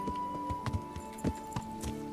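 Horse hooves clip-clop in Kingdom Come: Deliverance, a steady run of close, hollow thuds about three or four per second over a faint constant hum.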